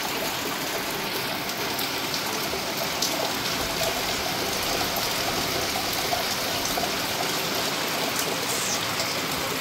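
Steady, dense rainfall pours down outdoors during the rainy season, a continuous even hiss of drops spattering on surfaces with no pauses and no voices.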